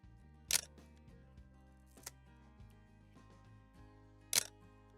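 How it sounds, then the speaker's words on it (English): A 35mm Praktica MTL3 film camera, about 40 years old, fires its metal-curtain shutter in a few sharp, loud clacks spaced apart, with a quieter click in between, against a faint low hum. "The shutter curtain is metal, very solid and very loud."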